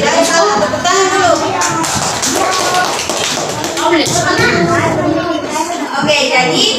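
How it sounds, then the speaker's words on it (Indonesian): Children clap their hands in applause in a classroom setting, a loud, brisk patter of many hands that carries on for several seconds, with children's voices chattering throughout. "Tepuk tangan dulu."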